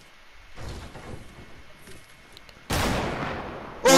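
Gunshots ring out in a Fortnite match, a sharp loud burst after a stretch of quiet movement, followed by another abrupt crack at the very end.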